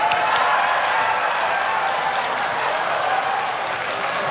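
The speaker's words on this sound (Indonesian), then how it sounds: "Silahkan, kalau ada yang mau tepuk tangan silahkan." Steady, dense applause from a large audience at a televised 2014 Indonesian presidential and vice-presidential debate, a continuous even wash of clapping filling the whole stretch without talk over it.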